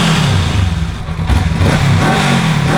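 Honda CL500 scrambler motorcycle engine revving close up, loud throaty bursts that dip briefly and then climb again, with no voices.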